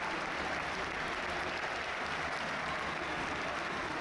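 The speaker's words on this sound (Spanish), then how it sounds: "Se termina siendo aplaudido porque no podía seguir." A football stadium crowd at a Lanús vs Banfield match applauds an injured player, producing a steady, dense wash of clapping from a distance with no break, moderately faint under the broadcast.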